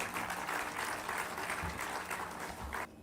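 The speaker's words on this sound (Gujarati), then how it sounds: "તમારો તાળીઓનો નાદ મને કહી આપશે" Applause from an audience at a discourse event, a full, even burst of many people clapping that cuts off abruptly just before the end.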